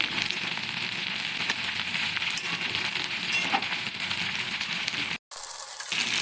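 Pre-fried lentil dumplings (bori) go into a boiling cauliflower-potato curry, giving a close, steady sizzling and bubbling. A brief dropout comes near the end.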